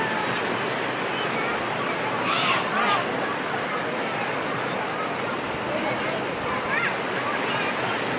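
Hin Lad Waterfall on Samui pours in a continuous, dense rush of falling water, steady and close, with faint voices from people nearby surfacing briefly over the roar.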